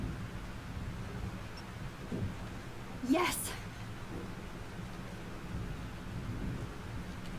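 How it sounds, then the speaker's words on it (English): Thunderstorm with steady rain in the Life is Strange video game, a low rumbling wash throughout with one sharp thunder crack midway; a voice briefly exclaims over it. "This storm is real."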